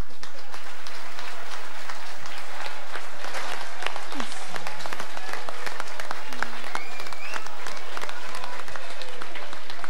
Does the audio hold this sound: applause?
yes